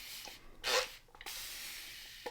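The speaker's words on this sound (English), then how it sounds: "I'm just going to give it a little spray from the Spellbinders Mister first" A small water mister gives a short hissing spray onto a watercolor background, a single soft burst amid faint steady room hiss and a light rub.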